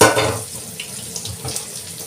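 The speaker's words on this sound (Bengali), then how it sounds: "আমি আগে পরিষ্কার করে মাছটাকে ধুয়ে ফেলি।" Tap water running over fish as it is washed at a sink, a steady close splash and trickle that is loudest at the start and then settles to a softer flow.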